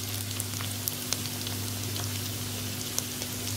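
Tomatoes and onions frying in a pan for masala kaleji, a steady close crackling sizzle with scattered sharp pops over a low electric hum, no talking.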